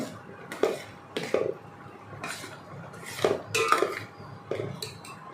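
Rice cooking in a pot being stirred, with a handful of distinct scraping and clinking strikes of a utensil against the pot at irregular intervals over a quiet background.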